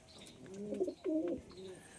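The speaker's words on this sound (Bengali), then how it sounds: "তো পায়রাটা কিরাম পায়রা দেখো, পায়রা এটা মদ্দা।" A male pigeon coos softly nearby, two or three low rolling coos in a short burst against a quiet background.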